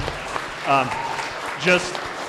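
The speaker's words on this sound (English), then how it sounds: "round of applause for all of you for coming" Guests at a networking mixer applaud, a soft, steady patter of clapping with a couple of brief voices rising over it.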